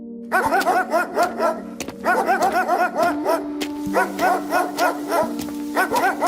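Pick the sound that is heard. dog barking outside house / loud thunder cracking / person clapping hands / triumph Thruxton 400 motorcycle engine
dog barking outside house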